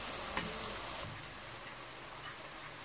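Onion, garlic and ginger fry in a pan for a butter chicken tikka gravy, giving a faint, steady sizzle and crackle that runs the whole time with no talking.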